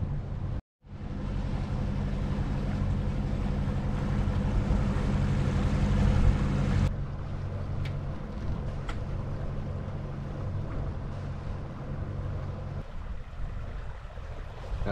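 A sailboat moving down a fjord, with a steady low rumble of wind and water against the hull that holds strongly, then eases to a softer wash with occasional light knocks.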